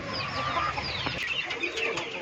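Laying hens cluck and squawk inside a poultry shed, a busy overlapping chorus of close and distant calls that continues without pause.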